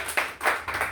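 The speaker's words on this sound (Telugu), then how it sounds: "గట్టిగా చప్పట్లు కొట్టే" Loud, sharp bursts of clapping from a church congregation during a Telugu sermon, several quick claps close together and near, with no talk over them.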